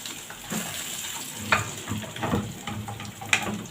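A spoonful of garlic fries in two spoons of country ghee in a home kitchen, giving a quiet, steady sizzle with soft stirring clicks and scrapes and no voices.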